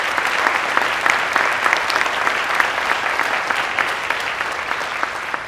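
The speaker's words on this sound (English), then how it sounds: "So please let's give him a round of applause." An audience at a Native American student recognition ceremony gives a round of applause, a steady, dense wash of many hands clapping that holds evenly for several seconds.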